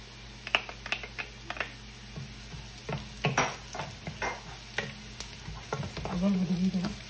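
Garlic added to onions frying in a pan, with a steady sizzle under repeated clicking, scraping strokes of a utensil against the pan, close and moderately loud with no talking.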